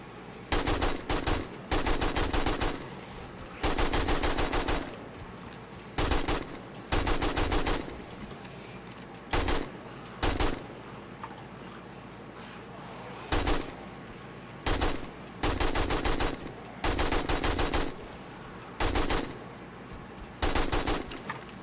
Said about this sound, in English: Time for some AK.